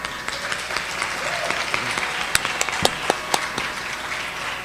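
Audience applause following a Bharatanatyam arangetram dance recital, a steady wash of many hands clapping with a few sharper nearby claps standing out, sustained and moderately loud throughout.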